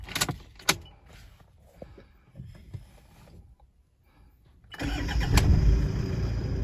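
A Toyota Fortuner engine cranks and catches near the end after a quieter stretch, then settles into a loud, steady idle close by.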